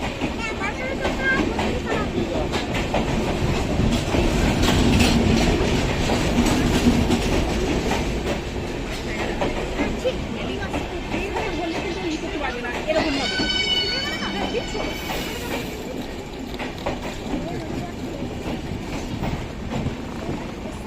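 Inside an AC 3-tier coach of the 13149 Kanchankanya Express, the running train gives a steady rumbling roar with clattering wheel beats, and a brief squealing tone rises midway; voices talk faintly in the carriage.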